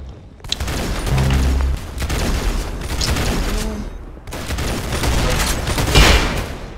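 Video game gunfire rattles in dense, loud bursts of rapid shots and booms that run almost without pause over several seconds.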